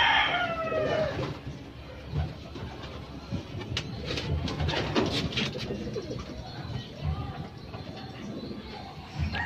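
Racing pigeons coo at a loft during a derby fun race, their soft repeated calls layered among other birds, with occasional rooster crowing and clucking and a voice talking over the busy background.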